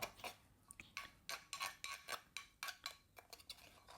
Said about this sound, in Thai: ตำให้มันเข้ากันให้มันแหลกครับ